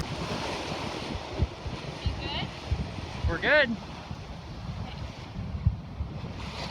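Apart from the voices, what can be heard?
ocean waves and wind at sea while sailing the Pacific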